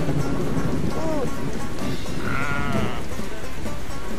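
Sheep bleat in a sheep-herding video game, a couple of wavering bleats rising over a dense bed of rain and thunder-like game ambience, with a person talking over it.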